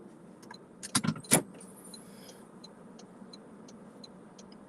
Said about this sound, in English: Move my car so these guys can turn out of here real quick.